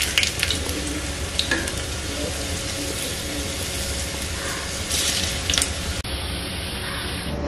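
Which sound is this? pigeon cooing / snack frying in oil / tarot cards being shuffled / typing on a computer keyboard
snack frying in oil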